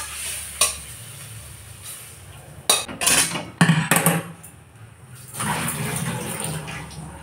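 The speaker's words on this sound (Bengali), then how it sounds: "পটলও ভাজা হয়ে গেছে, পটলটাও তুলে নেব।" Fried pointed gourd being lifted from an oily pan. Soft sizzling sits under scattered scrapes and knocks of a utensil against the metal, with a busier clatter in the middle and no talk.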